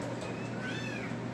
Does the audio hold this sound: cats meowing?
yes